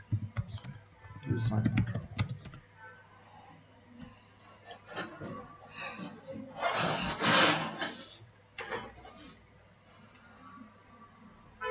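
Typing a search phrase on a computer keyboard, a burst of quick, close clicking keystrokes that comes and goes across the stretch, mixed with someone speaking at intervals.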